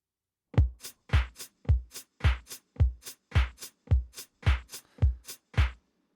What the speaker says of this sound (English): all together, those drums sound like this